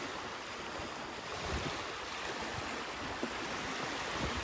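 Ocean surf washes onto a quiet beach at Delnor-Wiggins Pass State Park at sunset, a broad, steady roar of waves with light wind buffeting the microphone.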